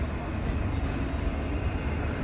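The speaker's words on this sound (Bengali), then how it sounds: "রাত 12:07 আমাদের ট্রেন ছেড়ে দিল" A Shimanto Express passenger train pulls out of Ishwardi Railway Junction at night, giving a steady low rumble and rolling wheel noise that stays close and continuous with no talk.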